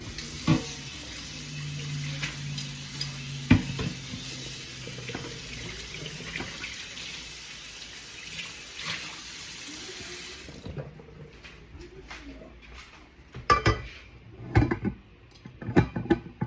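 Tap water runs steadily into a sink while a rice cooker lid is rinsed. It stops partway, and a few clattering knocks and handling sounds follow.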